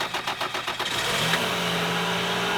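A car engine cranks with a rapid rhythmic chugging, then catches and settles into a steady idle, close and fairly loud, with no talking.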